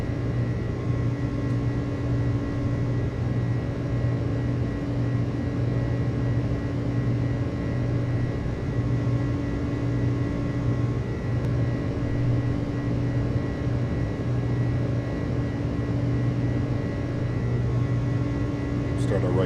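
Steady airliner engine drone from an iniBuilds A300 freighter in Microsoft Flight Simulator on a DHL flight out of Leipzig/Halle, a constant low hum with tonal layers throughout, heard under talk.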